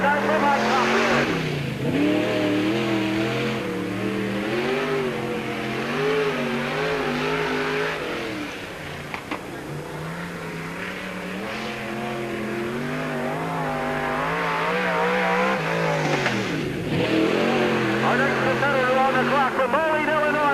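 A race car on a qualifying lap at Peoria Speedway during the 1997 Busch 100 snarls loudly as it passes, then its engine note rises and falls around the oval before it roars past again.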